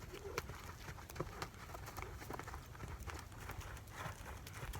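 A horse cantering on a lunge line, hoofbeats thudding in an irregular repeating rhythm on soft ground at moderate distance, with birds chirping faintly in the background.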